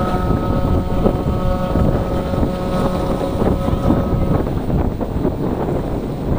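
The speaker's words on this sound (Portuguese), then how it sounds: "olha o barco aqui" A motorboat engine drones steadily on a water channel at Balneário Piçarras, Brazil, with a constant tonal hum mixed with heavy wind buffeting the microphone and no talking.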